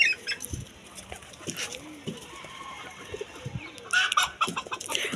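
Rooftop hens cluck and chatter excitedly while pecking at cockroaches, short choppy calls scattered close by with a brief louder burst near the end and faint talk in the background.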